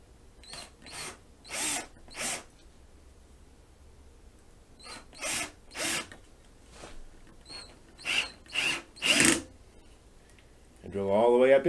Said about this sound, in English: I drill all the way up in if I can.